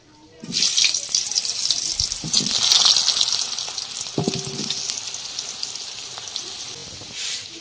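A sudden loud sizzle bursts up as potatoes drop into hot oil with bay leaves and cumin, then settles into a steady hiss with a few clatters of a utensil.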